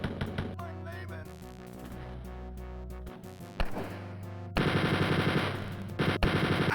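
Machine gun fire from the Wolfenstein 3D final boss fight against General Fettgesicht, rapid dense bursts that grow louder and more continuous in the second half, over game music with no talking.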